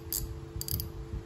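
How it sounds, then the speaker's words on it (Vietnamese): A Daiwa Freams spinning fishing reel's clicker ratchets in two short bursts of fine, dry clicks, close and quiet, with no one talking. "Đây là tiếng nữa gà của máy."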